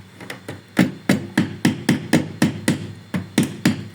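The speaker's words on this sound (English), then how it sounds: "I think I'll go with some light hammering." Light hammer taps knocking a tight-fitting board into a honeycomb wall during assembly: about a dozen sharp, evenly spaced knocks close by, a few soft ones at first, then steady firm blows.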